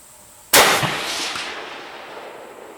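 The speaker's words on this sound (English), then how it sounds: "You shoot that rock." A single loud deer rifle shot fired at a rock outdoors, a sharp close crack followed by a long fading rumble and echo, with no talking.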